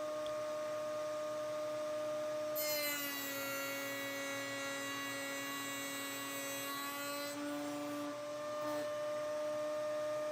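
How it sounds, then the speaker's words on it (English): Table saw cutting wooden tenons for a shaker vanity frame, a steady motor whine that rises into a brighter, harsher cutting tone for several seconds, then drops back to idle. "This is what it looks like to cut the tenons."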